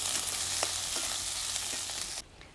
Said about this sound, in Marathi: कांदा आपल्याला चांगला परतून घ्यायचा लालसर होईपर्यंत